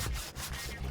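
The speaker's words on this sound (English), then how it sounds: "It can be worked with saws," A saw cutting through a block of autoclaved aerated concrete on a construction site, giving a steady, close, gritty rasping stroke with brief dips between pushes.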